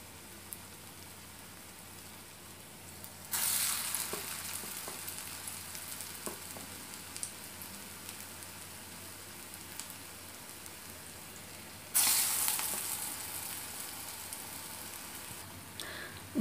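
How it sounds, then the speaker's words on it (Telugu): Masala vadas fry in hot oil with a constant crackling sizzle like light rain, surging into louder hissing bursts twice as more batter goes in, then settling back to a steady, fairly quiet bubbling. "గారెలు ఇలా గోల్డెన్ బ్రౌన్ కలర్లోకి వచ్చేవరకు ఉంచి ఆ తర్వాత తీసేసుకోవాలి"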